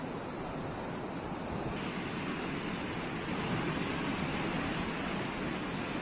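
The flooding Beas river rushes in a dense, unbroken roar of water that stays loud and steady throughout, with no voices over it.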